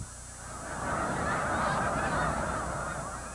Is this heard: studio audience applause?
no